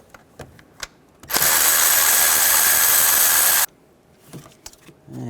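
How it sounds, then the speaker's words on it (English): A powered ratchet fitted with a 10mm socket spins out a bracket bolt on a 2007-11 Honda CR-V engine, giving one loud, steady whirring burst of about two seconds with a few light clicks before and after. "Use a 10mm socket."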